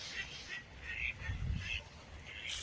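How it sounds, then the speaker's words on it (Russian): Ducks quacking by the water on a snowy outdoor walk, with scattered calls at moderate distance and a person talking over them. "Вон, посмотрите, сколько уток."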